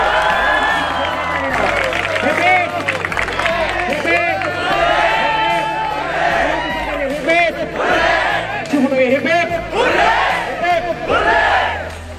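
Crowd of students celebrating JEE Main results at a coaching institute in Kota, with loud, continuous clapping, whooping and shouted cheers close by, voices mixed through the din.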